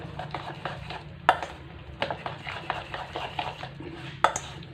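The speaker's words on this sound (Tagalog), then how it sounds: "Para pag hinalo natin siya, mako-coated siya." A spatula stirs tiny dulong fish coated in a tablespoon of oil inside a pan, giving soft, uneven scrapes and a few sharper metallic clinks close by, with no talking.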